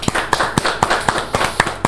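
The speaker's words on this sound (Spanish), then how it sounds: "Vamos a darle un aplauso al Espíritu Santo." A congregation at an evangelical women's ministry program claps in a steady rhythm in praise of the Holy Spirit, with sharp, evenly spaced claps about four per second and little else audible.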